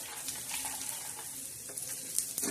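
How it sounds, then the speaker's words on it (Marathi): Garlic roasting in hot oil for a masala sizzles steadily, a soft continuous crackle with a few brief stirring scrapes near the end. "लसण बी असं छान भाजून घ्यायचा."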